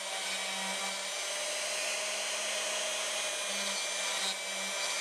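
A CNC machine mills a wooden block clamped to its bed, giving a steady, loud, whirring hum from the spindle and dust-free cutting with faint tonal shifts as the bit moves.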